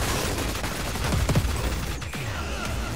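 Explosive weapons firing in the video game Crackdown 3, a short burst of heavy booming blasts and rapid gunfire with a descending whoosh, loud and close.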